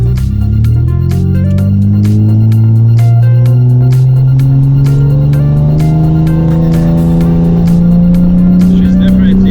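A 1975 Toyota Crown MS85 with a swapped 2JZ engine accelerates onto a freeway, its loud, smooth engine note climbing steadily through the revs as it pulls hard, heard close from inside the car.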